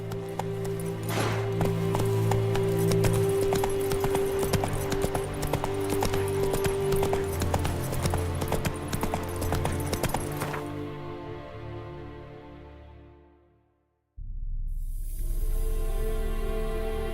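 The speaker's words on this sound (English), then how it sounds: "Run, Roach" Galloping horse hooves pound in a rapid, steady clip-clop in The Witcher 3, loud and close for about ten seconds before fading out, then a different loud game sound cuts in abruptly.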